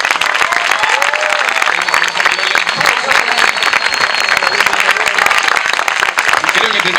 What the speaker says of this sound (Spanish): Luciano, un fuerte aplauso.